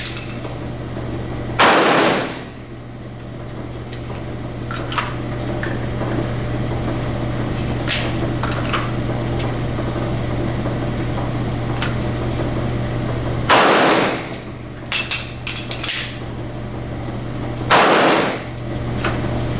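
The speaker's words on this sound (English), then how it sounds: "I'm going to fire 1 on the number 9, slide lock, reload" Pistol shots ring out one at a time during a bullseye shooting drill, three sharp loud cracks spaced several seconds apart, with quieter handling clicks and clatter between them over a steady low hum.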